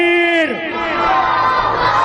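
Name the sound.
crowd responding to Nara-e-Takbeer chant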